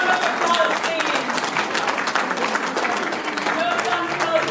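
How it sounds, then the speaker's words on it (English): Audience applause fills the hall at a women's award ceremony, dense steady clapping sustained throughout at a fairly loud level without a break. "Give a round of applause, please."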